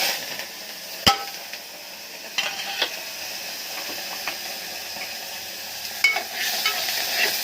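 Tomato, shallots, curry leaves and carrot sautéing in a pan, a soft sizzle broken by scraping stirs and occasional sharp clinks of a utensil against the pan, close by with no talk.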